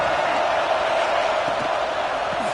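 A college football video game's stadium crowd roars as a steady, dense wash of cheering noise during a red zone defensive stand, loud and continuous.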